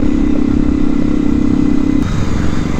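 A modified TVS Apache 200 motorcycle with a free-flow air filter runs close and loud in a steady, throbbing idle, its tone dropping away briefly near the end.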